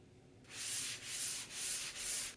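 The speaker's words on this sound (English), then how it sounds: "you have to sand in between the coats" Sandpaper rubbed by hand across a wooden drawer between coats of polyurethane, four close, steady back-and-forth strokes with brief pauses, alone and without talk.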